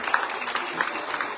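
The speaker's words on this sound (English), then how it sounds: "Let's keep clapping for them as they leave the stage for that wonderful singing." Audience applause for students leaving the stage after their singing at a school project launch event in Liberia, a steady dense patter of clapping throughout, fairly loud and without talk.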